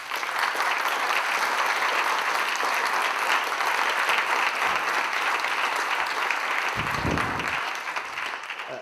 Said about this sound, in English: So I'd like you to give him a warm round of applause, Alex Salmond.